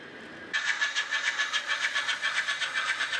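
An EM gauge model railway goods train of heavily weathered kit wagons with a brake van, hauled by a K3 locomotive, starts abruptly after a short quiet moment and then runs on with a steady, evenly pulsing rhythm at moderate loudness.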